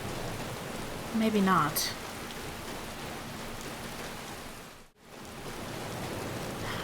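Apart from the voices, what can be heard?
rain falling in Skyrim, video game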